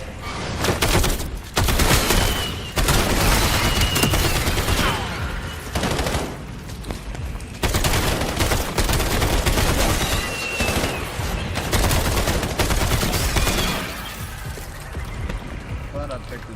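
Rapid bursts of automatic gunfire and booming shots in the Call of Duty Black Ops 7 game, loud and nearly continuous, with short gaps and a quieter stretch at the end.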